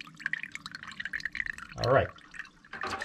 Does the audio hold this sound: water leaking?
yes